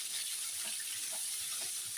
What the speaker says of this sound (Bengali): আলুগুলো ভেজে নিই